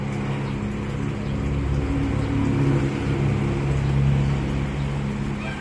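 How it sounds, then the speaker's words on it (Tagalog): Engine drone of a vehicle on a rural provincial road in the Philippines, a steady low hum that swells slightly as it passes, with no talking. "iba-ibang tunog ang maririnig nyo, mga galing sa"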